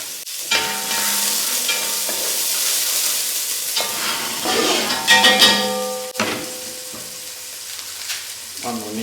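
Sliced onion frying in a stew pot for a lamb ragout: a continuous sizzle broken by a few louder bursts of clatter and stirring, with brief tonal sounds over it.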